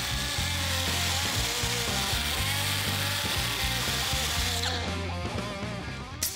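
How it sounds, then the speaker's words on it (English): A 7-inch grinder cleans up jagged, plasma-cut edges on a rusted square-body truck chassis, a loud, continuous close-range whine with uneven grinding texture that tapers off at the very end. "We'll follow that up with a 7-inch grinder to clean up the jagged edges that were left behind by the plasma torch."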